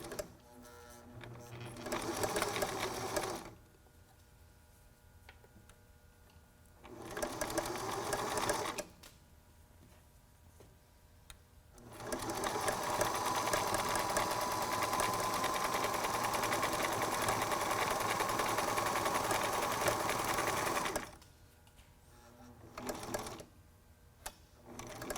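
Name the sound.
sewing machine stitching T-shirt face mask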